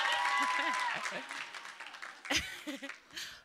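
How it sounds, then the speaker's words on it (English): Audience of women at a live event clapping and cheering loudly at first, the applause fading into scattered claps and whoops while a host speaks over it. "If you guys know, clap, cheer."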